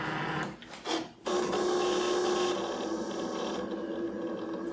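A Cricut cutting machine works through fabric squares, starting with a brief shuffle and then settling into a steady mechanical whir with a faint tonal hum, close and alone.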